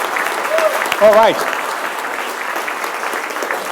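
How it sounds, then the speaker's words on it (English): A crowd at the 2014 Millionaire Master Plan Conference in London applauds steadily throughout as guests come on stage, with a brief spoken interjection and a whoop over the clapping. "keep the applause going"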